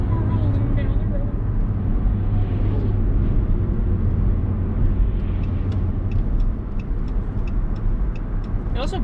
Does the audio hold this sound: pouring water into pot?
no